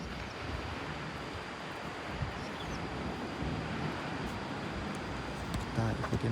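Ocean waves wash on a southern beach as a continuous broad roar mixed with wind buffeting the microphone, steady throughout, with faint talk near the end.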